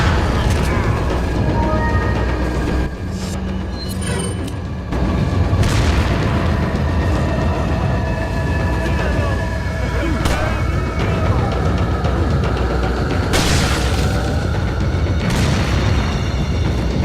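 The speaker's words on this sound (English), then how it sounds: "Time to get the shotgun going." Shotgun blasts in Resident Evil 4, several heavy booming shots spread out irregularly among game effects and background sounds, with a voice talking at times.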